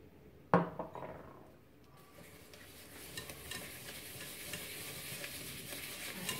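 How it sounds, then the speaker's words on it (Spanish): Sugar being stirred together with oil in a bowl for chocolate cupcake batter, a sharp knock near the start followed by a steady, moderately close scraping and swishing that continues without talk. "Echo el azúcar junto con el aceite"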